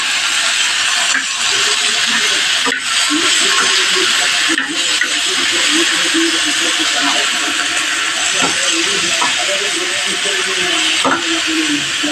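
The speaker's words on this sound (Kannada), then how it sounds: "ಟೊಮೊಟೊ ಒಂದು 4 ಟೊಮೊಟೊ ತೊಗೊಂಡಿದ್ದೆ, ಅದನ್ನು ಈಗ ಎಣ್ಣೆ ಫ್ರೈ ಮಾಡ್ಕೊಳ್ತೀನಿ" Four tomatoes fry in oil over browned onion, producing a loud, continuous hiss and sizzle. Scattered clicks and pops run through it, with faint voice-like sounds in the background.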